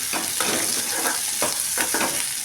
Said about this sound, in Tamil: இந்த கலர் மாற அளவுக்கு நீங்கள் வணக்கிக்கோங்க